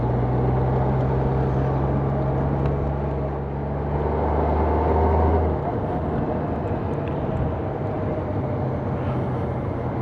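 A Royal Enfield Himalayan motorcycle with a stuck carburetor float and flooding fuel bowl idles with a steady low rumble. The pitch dips midway and then holds steady, and someone talks over it.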